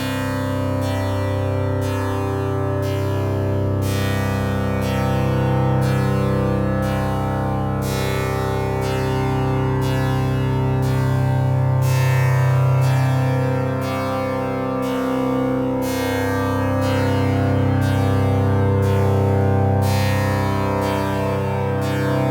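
Sustained droning plucked strings of a software tanpura simulator strummed slowly at about 60 beats per minute in a steady repeating cycle, with a rich buzzing resonance and lingering reverb, no voices.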